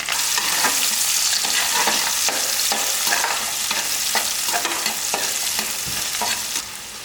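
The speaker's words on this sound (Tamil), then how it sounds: "பாருங்கள், வெங்காயம் வந்து இந்த அளவுக்கு நல்லா செவக்க வதக்கிடுங்க" Small onions sauté with turmeric and salt in a pan, a steady sizzle broken by regular scraping stir strokes roughly every half second, close and fairly loud with no talking.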